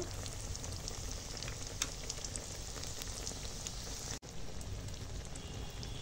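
Fennel paste sizzling and frying in hot oil over a very low flame, with hing and dal already in the pan: a steady, close crackling hiss throughout, briefly dipping for an instant near the end.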